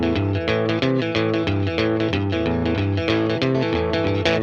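A distorted electric guitar riff, with no delay or reverb, chugs along in a steady swinging rhythm, loud and continuous, ending with a final accented hit.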